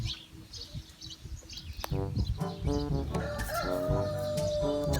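Chickens cluck and call in a busy, steady chorus, the clucks growing louder and denser partway through, with a rooster-like call mixed in.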